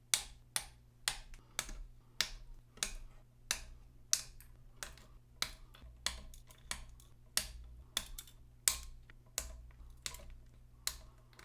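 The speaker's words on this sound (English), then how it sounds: "Let's trim these down a little bit" Cutters snip long component leads on a cassette deck circuit board, a steady run of about two dozen sharp, close clicks spaced roughly half a second apart over a constant low electrical hum, with no talking.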